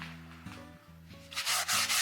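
A cloth rubbed briskly back and forth on an unwashed cast iron pan, making repeated scratchy rubbing strokes close up that grow louder and faster toward the end, over a faint low hum.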